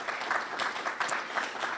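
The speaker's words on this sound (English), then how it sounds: "If you could give those investors a round of applause," Audience at a chamber of commerce luncheon at a golf and country club applauding: steady, moderately quiet clapping from a roomful of people, continuous and even throughout with slight swells.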